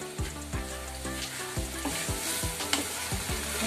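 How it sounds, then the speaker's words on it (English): Vegetable sauce being stirred in a pan after a stock cube goes in, with a steady sizzle of frying food and repeated scraping strokes of the spoon close by. "time to add cube and stir"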